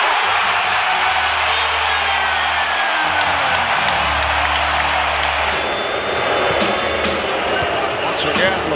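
A loud basketball arena crowd roars and boos continuously in a dense wash of noise during an NBA game involving LeBron James, with an excited commentator's voice running underneath.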